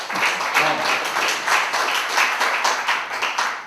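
Audience applause at a unification policy seminar marking the 78th Liberation Day anniversary, a dense, steady clapping from a seated crowd filling the room for a few seconds.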